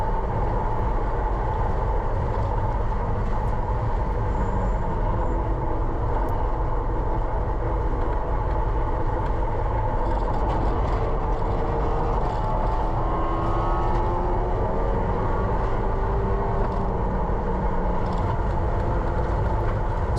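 Race cars in an SCCA race roar around the track in a continuous loud drone, engines rising and falling as a rival car battles close alongside, with no talk.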